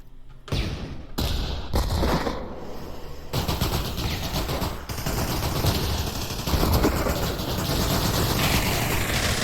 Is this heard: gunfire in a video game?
yes